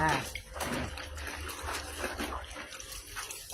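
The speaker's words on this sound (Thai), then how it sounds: "เอาเสื้อนี่แหละนะคะ ใส่กระมังนะคะ ล้างด้วยน้ำนะน้ำก็ซักด้วยมือนะคะซักมือ" A shirt washed by hand in a basin of water gives continuous sloshing and splashing close by, heard under someone talking steadily throughout.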